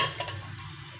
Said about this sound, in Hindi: अब हम इसमें आइस ऐड करेंगे।